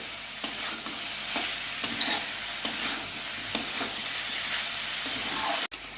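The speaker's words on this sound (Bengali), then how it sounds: "দিয়ে আরেকটু ভাজা ভাজা করে নিতে হবে।" Chopped vegetables sizzle steadily in a hot pan while a spoon scrapes and stirs them in repeated strokes, cooking the base for a vegetable dal; close and moderately loud, with no talking.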